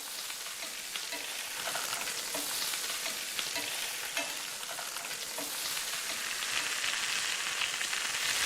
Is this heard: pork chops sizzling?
yes